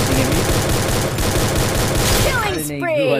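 Dense rapid gunfire from Free Fire on the Refinery map in a Solo vs Squad ranked match, loud and continuous bursts that fill the whole stretch, with a fainter voice talking underneath near the end.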